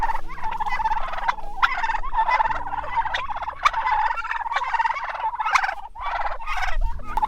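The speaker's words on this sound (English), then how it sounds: "Ah, the turkeys." Farm turkeys gobble repeatedly in a winter cow pasture, a noisy flock of rapid, bubbling calls overlapping one after another at close range, with no talking.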